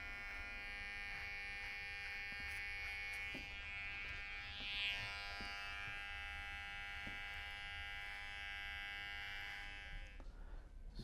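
Electric hair clippers trim the hairline of a man with a full, thick beard, a steady close-up buzz that holds for the whole span with small shifts in pitch as the blade moves.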